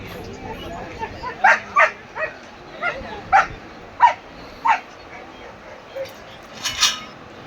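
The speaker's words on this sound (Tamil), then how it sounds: "இங்கே ஒரு ராஜமணி நாய் அது ஆண் நாய் இது பெண் நாய்" A Rajapalayam dog barks repeatedly, short sharp barks spaced a second or so apart, fairly close, with faint background noise in between, at an agricultural fair.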